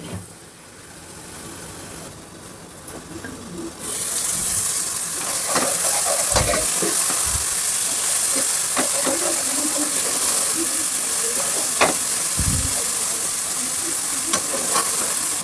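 Tomatoes frying in a pan for a mushroom masala curry, quiet at first, then a loud, steady hissing sizzle bursts in and continues, dotted with stirring clacks.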